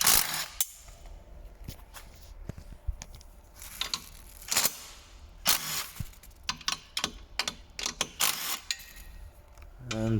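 Seat frame bolts being unscrewed with a power tool while swapping a Land Rover Discovery 4 seat frame to an L405 seat, heard as repeated short mechanical bursts and clicks with brief whirs between pauses.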